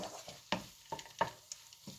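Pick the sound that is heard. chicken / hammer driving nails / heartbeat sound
chicken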